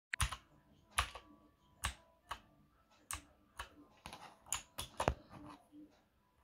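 Typing on a Redragon K583 RGB mechanical keyboard: sharp, separate key clicks in an uneven rhythm, some in quick clusters, close up and fairly quiet, with no voices.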